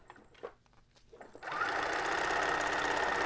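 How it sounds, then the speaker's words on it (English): A sewing machine stitches and backstitches a waist sash for a Luke Skywalker costume: a few quiet handling clicks, then a sudden close, loud, steady mechanical whirr of rapid stitching that runs to the end. "I'm going to go ahead and sew that down and backstitch."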